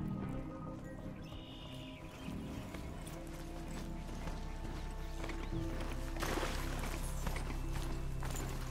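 Clip-clop hoofbeats of a galloping horse sound-effect blend steadily under a dense, music-like bed, with a brief whinny-like hint and no voices.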